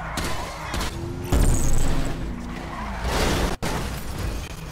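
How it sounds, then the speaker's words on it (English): In GTA Online, an armored car skids with a long tire squeal, then rams into something with a heavy crunch and a sharp impact. The sound is loud and close, over engine and game background. "You rammed me with an armored car."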